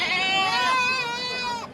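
A single goat at a livestock market in Natore lets out one loud, wavering bleat close by, lasting almost two seconds.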